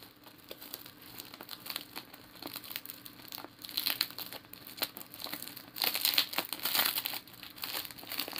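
Crinkling and crackling from a gift package as packing tape is pulled and peeled off, a continuous rustle with denser, louder stretches near the end, close and without speech.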